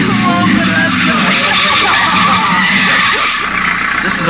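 A hot rod car's tires skid loudly and continuously, a dense roaring screech with engine noise, close and sustained throughout.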